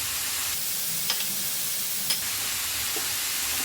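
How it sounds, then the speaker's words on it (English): Masala-coated vegetables for paneer jalfrezi being stirred in a pan over a steady sizzling hiss, with a few sharp spatula scrapes and taps breaking through now and then, and no voice present. "Give a good mix to all the masalas and coat the vegetables well with the spices"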